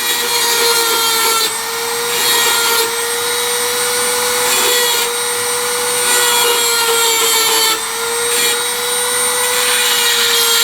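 A Dremel rotary tool bevels the end of a recoil spring guide rod, a steady high-pitched whine with continuous grinding hiss throughout, dipping briefly a few times as pressure on the metal changes.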